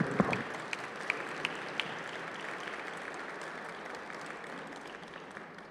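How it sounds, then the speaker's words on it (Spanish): A conference-hall audience applauds a speaker with steady clapping held at a moderate, slightly distant level, a few sharper claps standing out near the start. "No he dicho nada y ya me están aplaudiendo."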